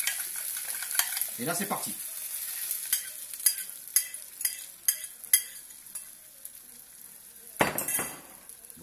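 Eggs frying in a pan with a little oil for leftover tortillas, a steady close sizzle with repeated clinks of a utensil against the pan, and a brief spoken phrase early on.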